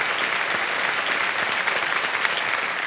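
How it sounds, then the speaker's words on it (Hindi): Studio audience on the quiz show Kaun Banega Crorepati clapping together, a loud, dense and even burst of applause that carries on steadily from start to finish with no voices over it. "वाह, ताली बज जाए।"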